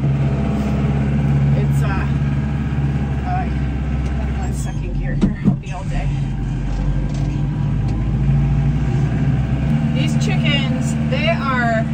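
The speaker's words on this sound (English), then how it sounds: "I'm still getting used to forward and reverse in this tractor." A tractor engine rumbles steadily at close range, its low drone continuing under a man's speech, with a brief clunk midway.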